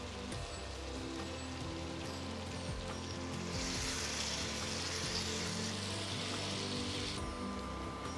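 Fried pointed gourd and whole green chillies are added to hot spiced oil, giving a steady, fairly quiet hiss and crackle throughout, with a brighter surge of sizzle in the middle.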